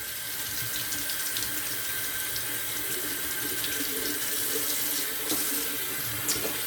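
Tap water runs steadily into a sink for a quick rinse while shaving, a continuous close splashing hiss with no talk.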